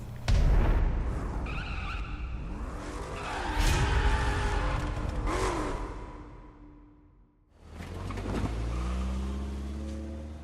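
A King car driven offroad in the racing game The Crew, engine roar and tyre skids sweeping loud and close for several seconds, then a brief dip before the engine surges back in.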